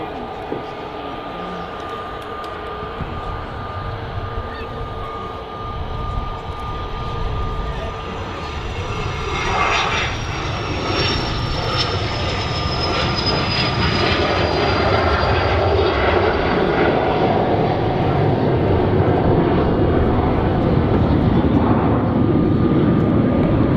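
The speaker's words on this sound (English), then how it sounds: "Quite a loud departure that for a little BizJet." A Learjet business jet takes off from a London-area airfield, its loud engine roar building steadily with a rising whine, close and continuous, with no voices heard.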